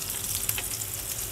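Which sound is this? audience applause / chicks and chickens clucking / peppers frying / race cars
peppers frying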